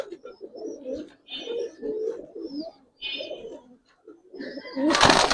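Giribaz pigeons coo close by in deep, rolling bursts with short pauses between them, ending in a loud rustling noise.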